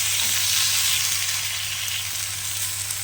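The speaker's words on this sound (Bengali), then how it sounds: "দেখো একটু সিমে দিয়ে যদি আস্তে আস্তে করা যায় না সুন্দর শ্যালো ফ্রাই করা যায়" Beans shallow-fry in a little oil, giving a steady, close hiss and crackle of sizzling that stays even and continuous throughout with no talk.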